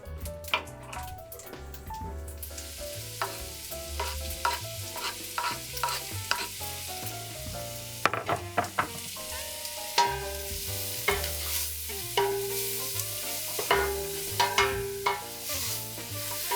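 Prosciutto frying in melted butter in a pan, a soft steady sizzle broken by repeated scrapes and taps of a spoon stirring it, with a quiet musical bed underneath and no talking.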